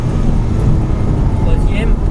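A Porsche Cayman S pulls hard on a race circuit at Haute Saintonge, its engine a dense, loud in-cabin roar that holds steady through the short stretch.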